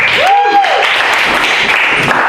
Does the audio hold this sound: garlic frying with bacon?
no